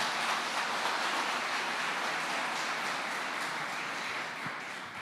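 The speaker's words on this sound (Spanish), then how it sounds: "Dale un aplauso al Señor." A church congregation applauds during a sermon, a steady, rain-like wash of many hands clapping at moderate distance, fairly quiet and sustained before easing slightly at the end.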